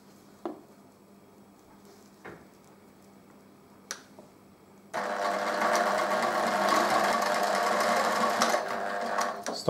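A few faint clicks and taps come first, then a sewing machine starts up and runs steadily at close range, sewing a fabric coaster with bias binding in a loud continuous whirring buzz.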